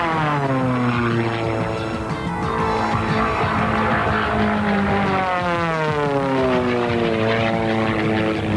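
Formula One class racing propeller airplane making a low pass at the Oshkosh airshow, a loud droning engine and prop roar with a clear pitch shift as it sweeps by, steady and close throughout.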